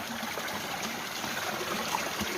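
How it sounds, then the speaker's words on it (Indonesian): Water from a mountain spring flows along a small stream, a continuous gentle rushing and trickling close by, with no voices. "bentuknya jadi sungai seperti ini"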